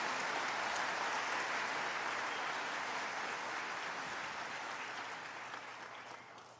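An audience at a graduation ceremony applauds the graduating class, a dense, sustained roar of clapping that slowly tapers off toward the end.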